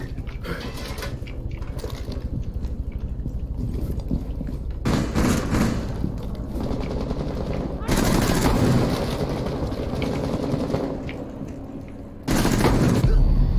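Gunfire in Rainbow Six Siege, with dense bursts of automatic shots and loud booming blasts in several sustained stretches, while players talk over the game audio.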